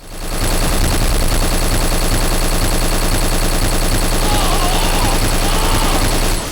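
Loud, dense gunfire from the 2006 video game Black, rapid overlapping bursts that roar without pause for several seconds.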